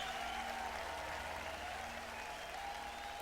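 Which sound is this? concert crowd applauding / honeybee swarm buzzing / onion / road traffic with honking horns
concert crowd applauding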